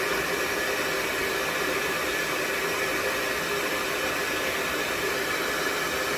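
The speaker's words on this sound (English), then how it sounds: "So the hairdryer worked." A hair dryer blows steadily at close range while heating a taped lace hairline on a hair system, a constant loud broadband whoosh with no pauses or changes in pitch.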